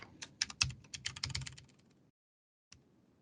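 Rapid keystrokes on a computer keyboard during a live coding demo, a quick burst of clicky taps for about two seconds, then silence and one last isolated key press.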